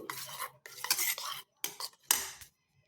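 Beaten eggs whisked with a utensil in a bowl for an omelette, brisk clinking and sloshing strokes in short bursts with brief pauses between, close and clear.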